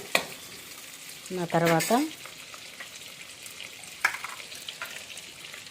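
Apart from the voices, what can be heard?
cashews frying and being stirred in pan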